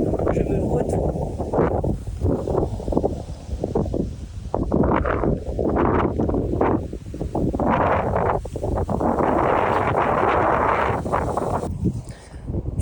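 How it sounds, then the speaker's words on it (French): Strong wind buffets the microphone on a hilltop in Nara, Japan, in cold weather, with loud gusty rumbling that surges and fades in waves throughout. "Il y a énormément de vent."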